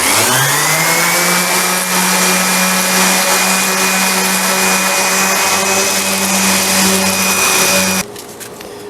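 A steady, loud power sander smoothing an elliptical wooden cutting board drones with a constant motor whine for several seconds, then stops suddenly, leaving quieter rattling.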